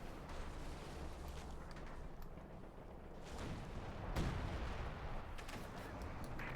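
Artillery and field guns fire in a Company of Heroes 2 battle, with heavy booms and rumbling blasts rolling over a dense combat din, one big impact standing out midway.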